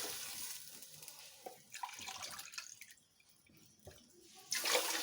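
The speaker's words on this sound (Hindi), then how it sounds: "ये 3 गिलास इसमें मैंने पानी डाल दिया है" Water pours and splashes into a cooking pot for karhi pakora and zeera rice, a steady hissing stream that fades and returns, ending with a brighter gush, fairly faint.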